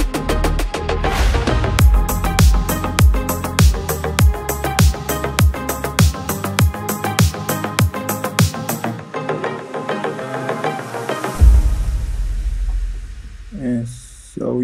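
A chill house remix outro pulses with a steady four-on-the-floor kick and chords, then its low end thins away under an Endless Smile effect before a rising sweep and a brief return of weight near the close.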